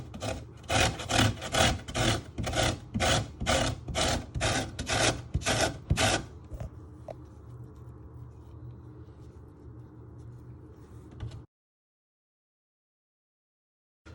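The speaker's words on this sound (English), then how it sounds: "once you have grated all your lemon zest" Lemon rind being grated against a metal grater for a sticky pork dish, about a dozen rhythmic rasping strokes close up for six seconds, then a steady low hum before silence.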